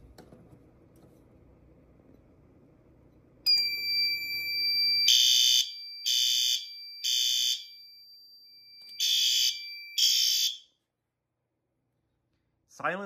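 A System Sensor L-Series fire alarm sounds five loud, evenly spaced horn blasts over a steady high electronic tone, after a low hum, then falls silent.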